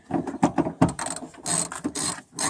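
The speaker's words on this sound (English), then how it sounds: "Flip your ratchet around." A ratchet wrench clicks rapidly during rear spoiler removal on a car, bursts of sharp close-up ratcheting in uneven runs with brief pauses between strokes.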